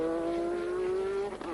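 A Formula 1 car during a race, engine in a steady high whine that rises slightly and then dips as it downshifts near the end, loud and close, no talk.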